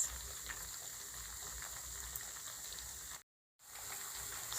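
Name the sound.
plantain frying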